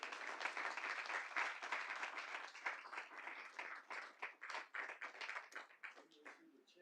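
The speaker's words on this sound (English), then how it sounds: "Let's give her a round of applause." Attendees at a city board of directors meeting clap for a retiree receiving a medallion; the applause is quiet and somewhat distant, thick at first, then breaking into looser, scattered claps.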